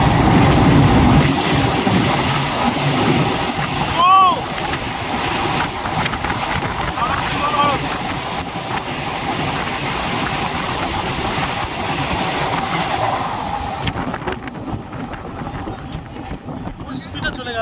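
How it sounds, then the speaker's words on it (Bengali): Howrah–Puri Vande Bharat Express (22895) roaring through Mecheda station at full speed, heard from a platform: a loud, sustained rush of wheels and wind with clattering and brief squeals, fading near the end, with voices audible underneath. "ফুল স্পিডে চলে গেল হাওড়া পুরী বন্দে ভারত।"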